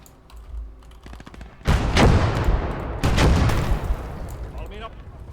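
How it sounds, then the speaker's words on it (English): Two heavy blasts from an anti-tank weapon in the war game Motherland, the second following about a second and a half after the first. Each is loud and booming with a long rumbling tail, preceded by keyboard clicks and someone talking. "Sounded like some kind of anti-tank weapon"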